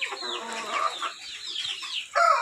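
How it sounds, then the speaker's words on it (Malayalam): Native backyard chickens cluck and chatter close by, a run of overlapping short calls and squawks with a louder burst at the end. "നാടൻ കോഴികളാണ് അതിൽ ഉള്ളത്."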